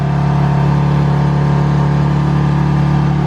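A 2024 BMW G80 M3 with a stock exhaust idles with its exhaust valves closed, making a steady, loud, close drone and low hum that never changes pitch.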